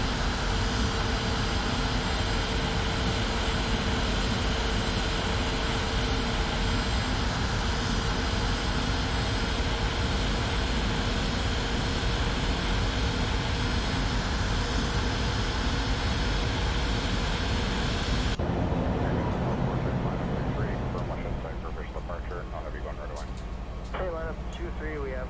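An Airbus A320 jet roars steadily during takeoff in a flight simulator game, loud continuous engine noise for most of the stretch, then cutting to a quieter hum with faint clicks, voices occasionally over it.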